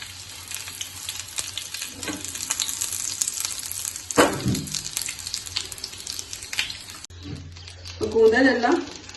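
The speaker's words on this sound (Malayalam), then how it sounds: "എല്ലാം തിരിച്ചും മറിച്ചും ഇട്ടിട്ട് നന്നായിട്ട് എല്ലാ ഭാഗവും ഫ്രൈ ചെയ്തെടുക്കണം കേട്ടോ" Stuffed squid fries in hot oil in a Malabar kitchen, giving a continuous close sizzle with occasional louder crackles and spatters as pieces are turned, while someone talks over it.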